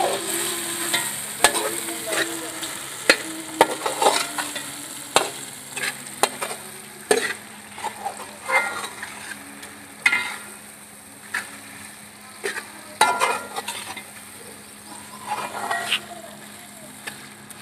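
Cumin and turmeric roasting in a pan during a Pakistani village chicken pulao lunch, steady stirring and scraping with frequent clinks and sizzle over a low background hum, no talking.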